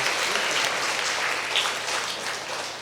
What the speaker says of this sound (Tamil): கைத்தட்டி எல்லாருக்கும் வரவேற்போம்.